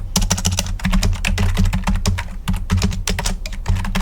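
Git commands are typed on a computer keyboard in a rapid, uneven clatter of close, crisp keystrokes, heard alone with no talk.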